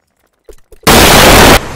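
Loud bomb explosion in the Roblox video game: a sudden, harsh, distorted blast lasting under a second, preceded by a few faint short taps.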